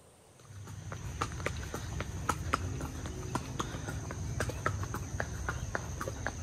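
Hooves clip-clop steadily as a horse carries a child rider at a hillside camping ground in Puncak, with crisp nearby hoofbeats over a low background hum and faint insects.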